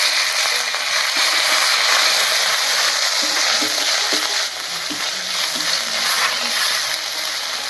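Ginger, turmeric and a ginger-cumin spice paste fry in hot oil with a loud, constant bright hiss and faint stirring clicks beneath, close and unbroken.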